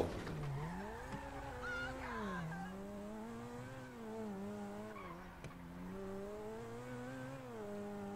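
A car driven in GTA 5 on PS4 revs steadily, its engine tone sweeping up and down with gear changes, with a brief tire squeal and a sharp knock along the way.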